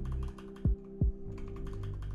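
A key on a computer keyboard is pressed while working in Photoshop, giving two distinct, sharp thumping clicks over a steady background hum, with no talking.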